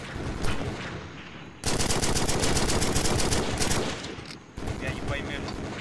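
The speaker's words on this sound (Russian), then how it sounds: "Я не пойму, пулемет где-то долбает." Machine-gun fire from an outdoor airsoft skirmish, heard as rapid rattling bursts over several seconds, fairly loud but with a somewhat distant, reverberant quality and a brief pause between long strings.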